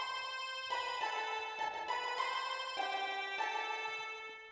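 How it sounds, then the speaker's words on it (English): A harsh, buzzy synth lead from Chrono Trigger music plays a melody of several sustained notes over strings, quiet and alone with no talking. "it's a really, really harsh sounding synth, and I really like the sound of it"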